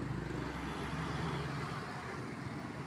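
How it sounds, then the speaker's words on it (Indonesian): A Gunung Harta double-decker bus on the Bandung–Malang route pulls to a stop in Bandung, under a steady, loud roar of engine and traffic rumble with no voices. "di depan saya baru berhenti bis Gunung Harta dengan tujuan Malang"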